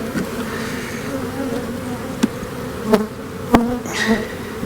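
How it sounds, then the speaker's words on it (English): Honey bees hum loudly around an open beehive during an inspection, a steady close buzz broken by a few sharp knocks and clunks from hive boxes and tools. "they got a lot of bees down here"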